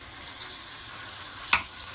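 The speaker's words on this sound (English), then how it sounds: "here is the burger meat in the pan" Ground beef burger meat frying on high heat in a pan, a steady close sizzle with a brief louder crackle partway through.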